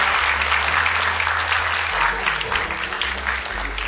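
Dense, loud applause fills the hall at a music academy's annual performance, a steady wash of clapping from a large audience with a low hum running underneath.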